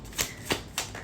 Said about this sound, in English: I'm just going to shuffle one time right quick.